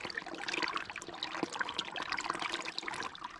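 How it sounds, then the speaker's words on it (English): Water bubbling up out of the ground at a spring in a wild Scottish glen, a steady close trickling and gurgling with broadband splashy texture throughout. "The water's bubbling out of there."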